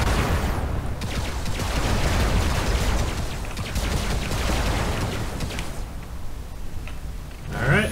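Robot weapons in Robocraft Infinity fire in a rapid, sustained rattling stream of shots for several seconds, then break off into sparse pops and a final whooshing burst, with no talking.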